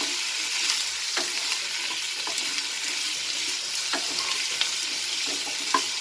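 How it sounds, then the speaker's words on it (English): Potatoes sautéing in a pan with brinjal, a steady close sizzle broken by a few sharp stirring clicks of a spoon against the pan. "So I am going to add the potatoes now. I will saute it."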